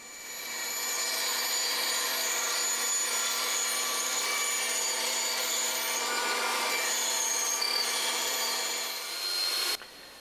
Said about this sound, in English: take the piece over to the bandsaw and cut out the shape of the arm.